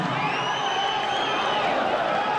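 A boxing crowd cheers and roars continuously during a bout between Clay Aumatagi and Andre Baker, a dense, loud wash of voices from a large audience filling the whole moment.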